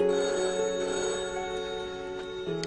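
A telephone bell rings steadily with a bright metallic trill, fairly faint, heard alone without talking.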